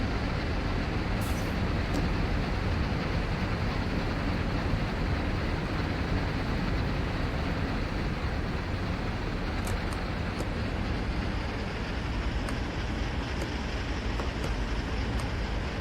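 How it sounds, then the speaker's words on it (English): A long double-stacked freight train of well cars rolls downhill in Train Sim World 2 and starts to run away. It gives a continuous broadband rumble with a few faint high squeals. "Our train's starting to run away from us."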